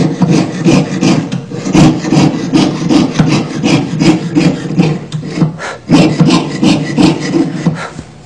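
Rapid, rhythmic back-and-forth rasping of a lubricated hand saw cutting through metal along a marked line, loud and close, steady strokes with a brief pause near the middle.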